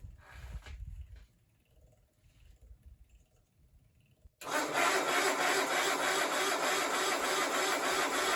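Bolens HT20 garden tractor in -30°C cold: a few seconds of quiet fumbling, then the engine catches and roars into a loud, steady run close by until the end.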